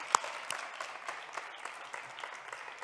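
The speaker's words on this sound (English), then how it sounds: "Perhaps an applause now for the team." Listeners at an official festival opening event applaud the team, a soft, scattered round of handclaps heard at a distance.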